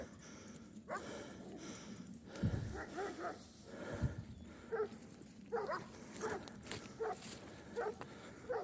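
Several dogs bark in short, scattered bursts at a moderate distance outdoors, with quiet whimpering mixed in over a low background rumble.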